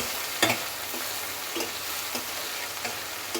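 Onions fry slowly in a pan over low heat, a close soft continuous sizzle with occasional scraping stirs of a spatula, no talk.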